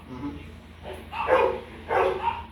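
A pet dog at a home vaccination barks and yips in a few short bursts, fairly close, with people talking around it.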